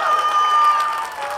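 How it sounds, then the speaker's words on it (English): Crowd at an outdoor climate strike rally at City Hall applauds and cheers for David Zuckerman, a steady wash of clapping and voices with a faint ringing tone running through it. "Can I get another applause for David Zuckerman real quick?"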